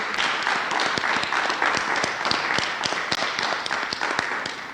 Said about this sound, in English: Give all of our panelists a round of applause,